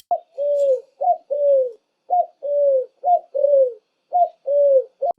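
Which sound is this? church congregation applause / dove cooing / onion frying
dove cooing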